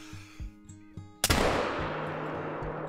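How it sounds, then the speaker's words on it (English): A muzzleloader rifle firing a round ball at a buck during a hunt goes off as a single sharp, loud report. A long rolling echo decays after it, preceded by a few faint knocks. "we just took our first shot with the Muzzleloader and the round balls on a good buck"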